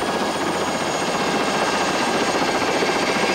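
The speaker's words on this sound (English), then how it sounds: "The helicopter keeps you close to the ground," A helicopter's steady, loud rotor roar and engine whine fill the air continuously, close by and unbroken.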